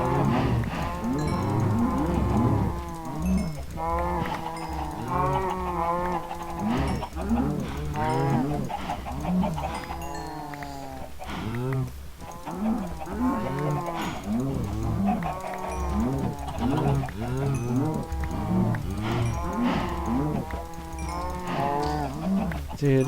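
A herd of cows mooing in a block-building video game farm, continuous overlapping moos of varied pitch at a steady moderate level over twenty seconds, with no talk.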